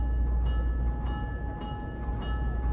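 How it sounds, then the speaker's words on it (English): A train in the video game Syberia: The World Before, bound for the airport, rumbles as it departs with a low steady drone and faint rhythmic clacks repeating about every half second. "The train for the airport is about to depart."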